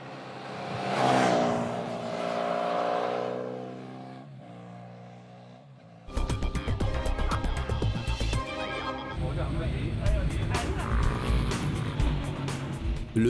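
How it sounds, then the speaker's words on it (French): A loud twin-cylinder motorcycle engine rises and falls in pitch as the bike passes at the Nürburgring, then a hard, sustained roar with crackling revs continues for several seconds. "Le tonnerre du bicylindre au Nürburgring."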